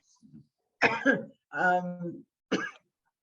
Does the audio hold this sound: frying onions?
no